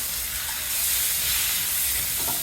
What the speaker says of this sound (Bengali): শিমগুলোকে আমি কিছুক্ষণ নেড়ে নিব